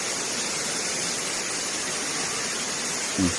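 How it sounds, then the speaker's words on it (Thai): Waterfall at Tham Soda in Nong Phok, Roi Et, a continuous broad rushing roar of falling water, steady and even, with a brief faint knock near the end. "ข้างล่างจะเป็นน้ำตกลงไปครับ"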